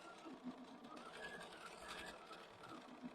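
A sewing machine stitches during free-motion quilting, a quiet, steady mechanical whirring with a fast rapid tapping, faint and continuous throughout.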